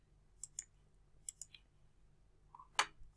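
Several quick computer mouse clicks, close and crisp, come in small spaced pairs over a quiet room hum, with one louder click near the end.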